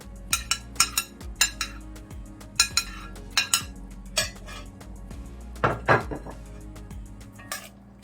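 A spoon knocking and scraping around a cooking pot as Jamaican mackerel rundown is mixed, quick clinking strikes in uneven bursts, close and clear with no voices.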